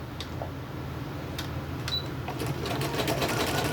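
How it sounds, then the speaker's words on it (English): A sewing machine runs a decorative stitch on a crazy crumb quilt block, its steady mechanical whir and rapid ticking continuous and close throughout, with no voices. "I'm going to come back here and I'm going to throw on a decorative stitch"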